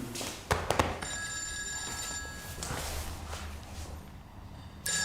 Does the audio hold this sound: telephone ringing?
yes